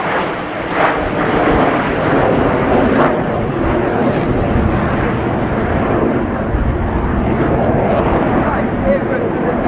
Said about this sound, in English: 5 aircraft to the left, 4 to the right